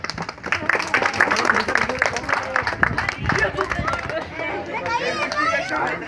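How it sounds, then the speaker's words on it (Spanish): Amateur boxers and others in a boxing gym clapping, sharp close claps in a loose rhythm mixed with shouting voices and chatter, lively and loud throughout. "Un aplauso para todos, por favor."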